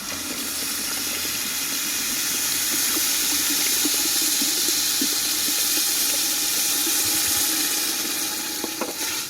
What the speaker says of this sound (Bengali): এবার পরিমাণ মতো আমরা জল দিয়ে দেবো